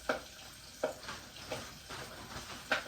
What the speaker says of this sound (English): stick it in my grease. That's frying it.